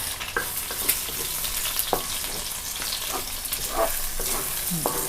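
Mee sua noodles stir-fried with pork belly, egg, garlic and pork lard, a busy close sizzle with repeated clinks and scrapes of the spatula against the pan.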